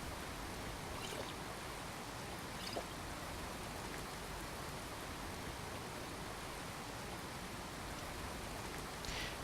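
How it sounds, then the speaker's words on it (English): Steady hiss of rain falling on a river in the video game Skyrim, constant and fairly faint, with occasional soft drips standing out; no voices. "You can see incidentally the rain in the river."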